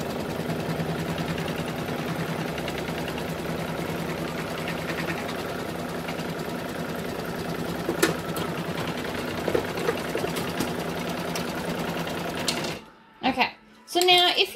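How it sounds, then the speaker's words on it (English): An embroidery machine stitches a shape for an in-the-hoop snowball project, running with a steady rapid mechanical whir and needle patter up close, then stopping briefly with a few short bursts at the end; speech is heard over it. "it's going to stitch it out. So it's literally going to stitch this shape for us"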